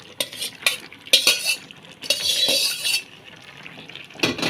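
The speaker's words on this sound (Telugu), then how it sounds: "ఇప్పుడు ఇది కొంచెం పైకి తేలింది కదా ఆయిల్, మనం పాస్తా వేసేసుకుందాం" Pasta is stirred in hot oil in a pan, with loud scraping strokes and metallic clinks of a utensil against the pan over a low sizzle, close and without speech.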